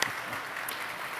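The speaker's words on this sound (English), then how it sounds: "Okay, everybody applaud." An audience at a community volunteer awards event claps in a brief, steady burst of applause, moderately distant and even in level.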